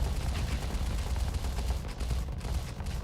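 Constant gunfire from ships in a Starsector space battle: dense, continuous rattling bursts and booming shots overlapping at steady loudness, with no talking.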